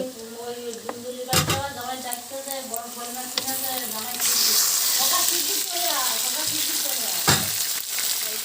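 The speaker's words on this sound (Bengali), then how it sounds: "রসুনটা দিয়ে ভাজা ভাজা করে নিয়েছি এবার আমি মাংসটা এর মধ্যে দিয়ে দেব" Mutton dropped into a hot kadai of fried garlic sizzles steadily at close range, with crackling bursts and stirring scrapes, while a voice talks intermittently over the cooking.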